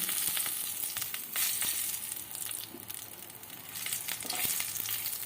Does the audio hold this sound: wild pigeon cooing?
no